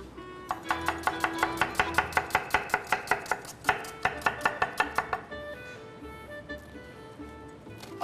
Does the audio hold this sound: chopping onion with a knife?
yes